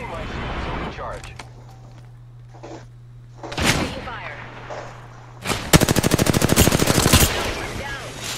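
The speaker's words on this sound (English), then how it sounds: "I am taking fire, friends." Apex Legends combat: a couple of sharp single shots, then a loud, fast machine-gun burst lasting nearly two seconds, with a steady hum and speech in the background.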